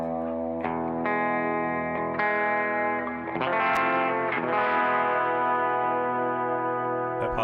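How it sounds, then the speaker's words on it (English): Electric guitar played through a pedalboard with a Gen Loss pedal set for sample reduction: sustained distorted, chorused chords struck several times, shimmering and bell-like, with no talk. "apologize if you guys can hear that sample reduction or whatever is going on there"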